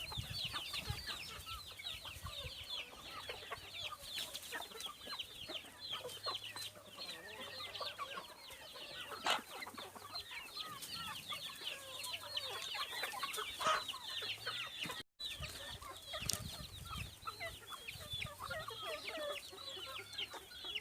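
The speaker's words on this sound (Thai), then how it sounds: "เดี๋ยวเขาไปเบิ่งไก่เขา" Chickens cluck continuously on a Thai farm, a dense chorus of many birds close by with occasional crowing, and no talk over them.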